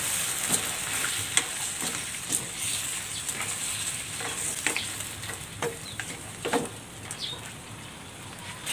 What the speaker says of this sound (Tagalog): Ilalagay ko na dito yung tinabi kong marinade.